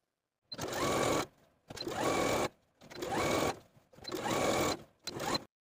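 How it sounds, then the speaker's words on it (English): A sewing machine edge-stitches the hem of a blouse in four bursts of steady whirring, each lasting under a second, separated by brief silences and heard up close with no talking. "now I'm going to edge stitch all around the bottom of the blouse close to this inner fold"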